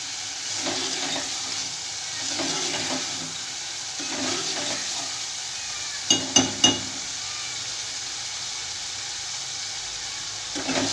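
Masala for matar keema sizzling in a pan, a steady hiss with soft scraping strokes as it is stirred and a few sharp clinks of the spoon against the pot.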